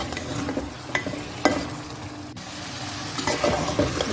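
Meat fries with spices for bhuna gosht, giving a dense, steady sizzle close by, with scraping stirs and a few sharper clicks of the utensil against the pan.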